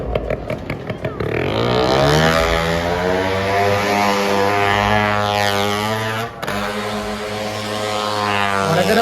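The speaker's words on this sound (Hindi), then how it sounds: "जो कार है या बाइक है वो मौत के कुएं में गोल गोल गोल" Engines of cars and motorbikes roar continuously as they circle the wall of a death well, a loud sustained drone with rising and falling pitch like repeated laps, briefly dipping near the end.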